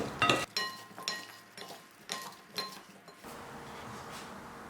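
Spoon clinking against a bowl as olive oil, black pepper and other ingredients are stirred together, a few bright metallic taps and scrapes close up in a quiet kitchen.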